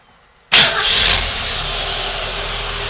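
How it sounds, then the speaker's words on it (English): A Ford Falcon's engine, just back from a radiator replacement, starts after a silent moment: a sharp loud crank and catch, then settling into a steady, even idle that carries on alone. "I'll reach in here and start it up for you."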